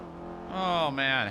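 A video game car engine revving up over a second or so, its rising harmonic tone brief and fairly close, with a short dip mid-rev.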